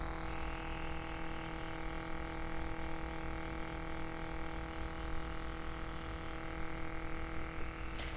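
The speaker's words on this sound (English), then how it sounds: "we're gonna just apply her foundation with the airbrush" An airbrush sprays foundation makeup onto a face, giving a steady, close, continuous hiss that holds evenly for the full eight seconds with no talking.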